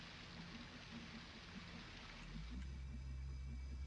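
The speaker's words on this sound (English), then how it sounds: "There's a red liquid pouring out." Red liquid pours and splashes steadily in a Silent Hill-style horror game, a faint continuous watery rush that swells into a heavier low gush near the end, with no talking.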